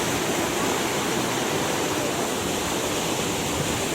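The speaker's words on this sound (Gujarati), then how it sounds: "નદીનું સ્તર કેટલું વધી રહ્યું છે, અને આગળ નદી બે કાંઠે જઈ રહી છે" A continuous, loud roar of the flooded Kalubhar river in Bhavnagar district rushing after rain, broad and steady throughout with no pauses or voices.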